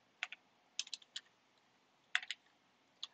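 Bursts of keystrokes on a computer keyboard while writing C code, quick clustered clicks in three or four groups separated by short pauses, close and fairly quiet with no talking.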